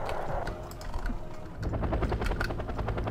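Helicopter flying low over a forest in the Wargame Airland Battle combat game, a steady rotor and engine drone with rapid clicky pulses, moderately loud and continuous.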